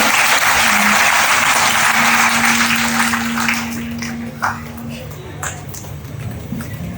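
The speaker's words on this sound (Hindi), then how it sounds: "एक बार जोरदार ताली से आपका अभिनंदन करें।" Audience applause at a spiritual gathering in Vrindavan: loud, dense clapping from a crowd that stays strong for several seconds, then thins and fades, with voices audible over it.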